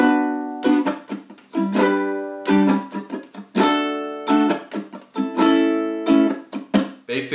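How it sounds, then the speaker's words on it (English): A ukulele strums the chords of a song in a pattern of a full down strum, a short up strum and several muted chops, repeating in bright bursts close up with no voice. "Basically, this is just one down strum followed by a short up strum and a few muted strums on each chord."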